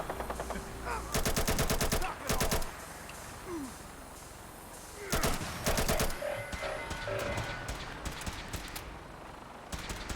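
Automatic gunfire in modded Fallout 4 survival play, several loud bursts of rapid shots separated by pauses, some sharp single cracks near the end, with no talking.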